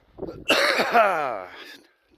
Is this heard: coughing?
yes